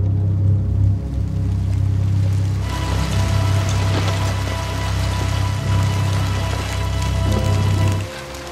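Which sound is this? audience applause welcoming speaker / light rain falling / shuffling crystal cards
light rain falling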